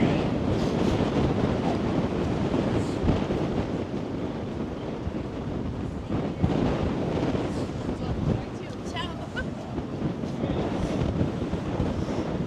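Wind blowing near the Brooklyn Bridge in New York City, heard as steady, loud gusty buffeting across the microphone for over twelve seconds, with faint city and water ambience beneath.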